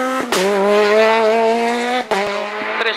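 A rally car at a Spanish rally stage brakes hard, its tyres letting out a loud sustained squeal over the engine, broken by short sharp clicks and a brief dip before the squeal resumes.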